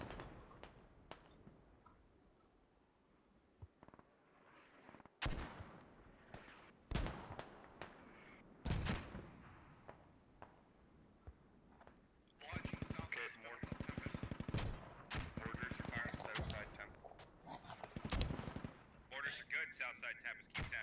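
Bursts of rifle and machine-gun fire with heavier booming impacts crackle through a Squad video game battle, the firing sporadic at first and then growing dense and continuous, with voices talking over parts of the fight.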